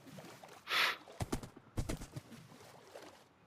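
A skeleton horse's hooves clip-clop in Minecraft, a few soft, quick clops standing out against a quiet background, with one sharp burst of another sound just before them.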